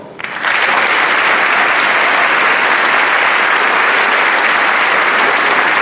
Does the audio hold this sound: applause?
yes